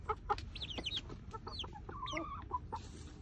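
Easter Egger chickens give a quick run of soft clucks and chirpy calls nearby, faint and scattered over a low background rumble.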